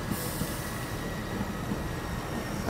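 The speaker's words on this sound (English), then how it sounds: "All right, here comes a train. It's out of service." An out-of-service train rumbles past at a steady moderate level, with a constant low roar and a faint high metallic whine from the wheels.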